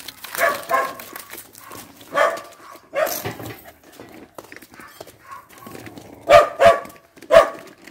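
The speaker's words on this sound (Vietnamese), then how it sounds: "Đây, chú chó nó ở đây này." Dogs bark at a house yard while greeting a visitor, a few loud close barks bursting out near the end after scattered movement and softer noises.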